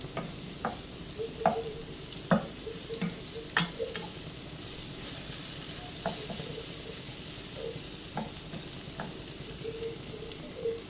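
Garlic and other ingredients for a cheese garlic egg sandwich sizzle quietly in a frying pan, punctuated by intermittent clicks and scrapes as a utensil stirs them.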